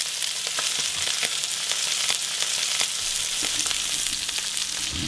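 Garlic and rosemary sizzling in a pan while cooking venison tenderloin, a steady, fairly soft crackling fry with occasional pops and light stirring, no voices.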